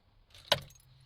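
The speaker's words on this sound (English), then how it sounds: "key out." Keys jangle sharply in one short metallic burst as the ignition key is pulled from a Ford Transit Custom van, close and quiet otherwise.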